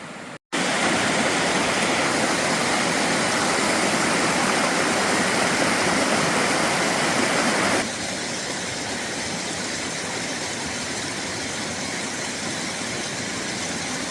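A creek flowing full after rain, heard as a loud, steady, broadband rush of water that holds constant throughout and dips slightly partway through, with no voices.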